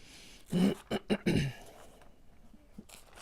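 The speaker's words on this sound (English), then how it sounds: "Excuse me for clearing my throat." Someone clears their throat with several short, rough bursts in quick succession, close by, followed by quiet with a faint breath.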